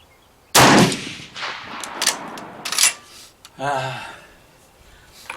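Rifle shots ring out at an outdoor shooting range, one loud crack followed by several sharper, quieter reports, each with a short echo, and someone talks between them.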